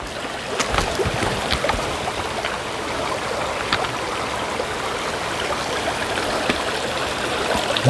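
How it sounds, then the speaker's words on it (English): A bigger mountain stream on the Appalachian Trail rushes and trickles steadily, a continuous close wash of water with occasional splashy ticks, no talking. "And here's the bigger stream."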